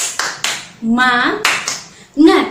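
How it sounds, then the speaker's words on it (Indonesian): A group performs a spirited rhythmic clap cheer at a morning class gathering, with sharp clustered claps between voices chanting along in unison, close and fairly loud. "Sekali lagi, tepuk semangat."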